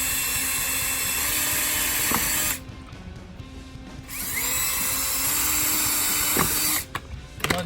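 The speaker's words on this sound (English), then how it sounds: "I'm going to drill a few more holes in there" A power drill whirs steadily while boring holes in a copper welding spoon, running in two long stretches separated by a quiet pause, with small clicks and handling noises between runs.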